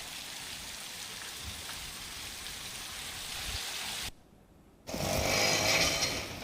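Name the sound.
rain falling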